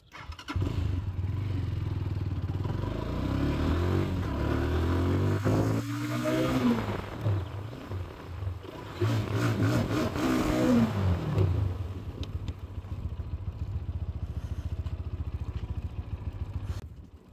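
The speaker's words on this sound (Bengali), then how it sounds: "এই হুন্ডা নিয়ে কি দৌড় দিলা কে তুমি?" A GPX motorcycle pulls away nearby with a rumbling engine and two sharp rev swells, then keeps up a steady throttle note, with no voices.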